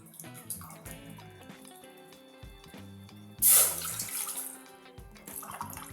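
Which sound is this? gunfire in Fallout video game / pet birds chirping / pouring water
pouring water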